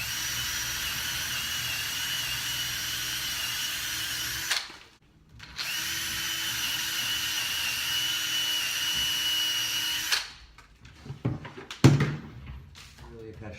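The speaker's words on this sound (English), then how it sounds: "complete drilling until I go all the way deep enough for this tape mark on the drill bit to come into contact with the surface of the railing" A power drill bores a hole into a railing in a steady, loud whine. The run breaks briefly partway through, then continues and stops with a few knocks and handling sounds at the end.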